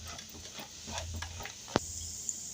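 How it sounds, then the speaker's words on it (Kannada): Coconut pieces, dry rather than fresh, drop into hot oil and fry with a steady sizzle, one sharp clatter standing out partway through, with no voices. "ಇವಾಗ ಕಾಯಿ ಪೀಸ್ ಏನು ಮಾಡ್ಕೊಂಡಿದ್ದೀವಿ ಅದನ್ನು ಎಣ್ಣೆಗೆ ಹಾಕ್ಕೊಳ್ಳೋಣ"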